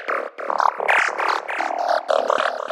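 A bubbly synth lead for forest and darkpsy music plays a quick run of bright, higher-velocity notes in a rapid staccato pattern, loud and up front with no other sounds.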